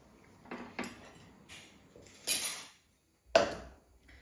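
A cheenachatti, a Kerala wok, is set down on the stove with several short metallic knocks and scrapes, two louder clanks standing out among quieter bumps and pauses of near silence.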